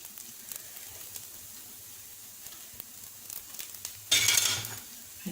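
A frozen paratha fries in ghee on a hot pan with a quiet, steady sizzle, swelling into a sharper, louder crackle about four seconds in before settling again.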